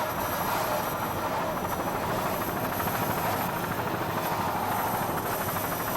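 Powerful high-performance offshore race boats, including Champion Marine's entry, roar past in a 1989 North Miami, Florida powerboat race, giving a loud, steady engine drone with rushing water and no pauses.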